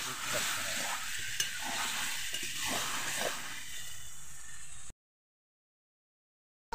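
Marinated chicken sautés and is stirred in a pan, a continuous hiss of frying with spatula scrapes that runs for about five seconds before cutting to silence.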